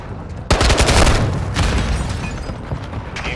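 A grenade explosion in the Call of Duty: Modern Warfare II video game, a loud sudden boom followed by sustained heavy gunfire and rumbling blasts that stay dense and loud throughout.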